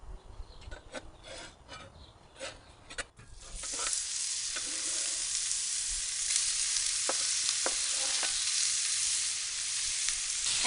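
Bacon hitting a used, re-seasoned Blackstone griddle: scraping and tapping at first, then a loud, bright continuous sizzle that swells and holds, with occasional spatula clicks over it and no speech.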